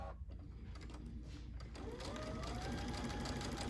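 Sewing machine stitching appliqué on a Christmas ornaments pillow, a quiet, steady mechanical whir that grows slightly louder and more even partway through.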